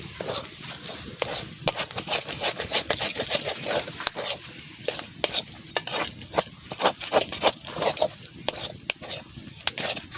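A ladle stirs thickening flour in a pan while making sandesh, with a steady run of close scraping and clinking strokes over a soft sizzle, continuous and fairly loud with no talk.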